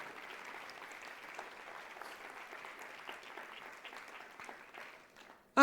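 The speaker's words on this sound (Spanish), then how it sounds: "Dale un aplauso a él." A church congregation applauds during a pastor's sermon, steady soft clapping from a crowd heard at a distance, fairly faint and even throughout before cutting off at the end.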